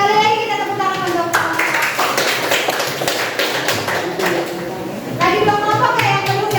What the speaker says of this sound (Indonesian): Sekali lagi kita tepuk tangan untuk